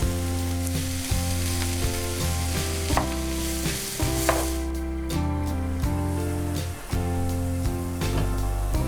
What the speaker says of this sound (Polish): Gdy cebulka się zrumieni, można śmiało wrzucać pieczarki. Jeszcze chwileczkę podsmażyć razem.